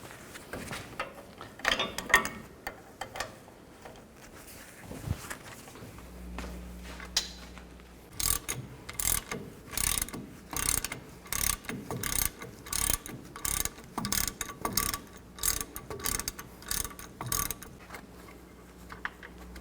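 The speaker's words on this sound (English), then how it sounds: "Use an 18mm socket and loosen up the caliper bracket bolts." A ratchet with an 18mm socket works loose the rear caliper bracket bolts on a 1999-2007 Chevy Silverado 2500, giving rapid close clicking bursts in repeated strokes, with a brief low hum partway through.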